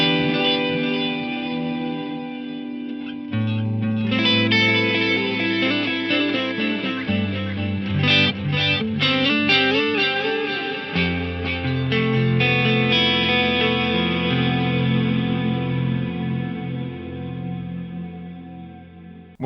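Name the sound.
electric guitar through Axe-Fx delays mixed with ever-increasing reverb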